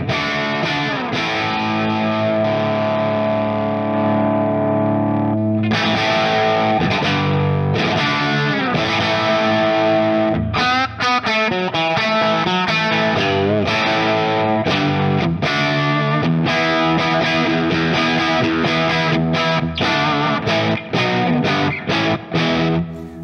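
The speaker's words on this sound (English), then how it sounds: "This is all amp distortion that you're hearing now." Electric guitar played through a tube amplifier pushed into power tube distortion, loud and sustained with dense saturated chords, some held notes and bursts of choppy strummed phrases, no voice.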